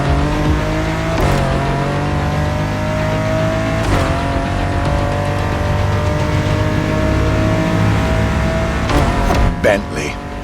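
A luxury car's engine revs steadily and loudly in the racing video game The Crew Motorfest, with sustained harmonic engine tones, a few brief gear-shift breaks and rising pitch, heard alone without talk.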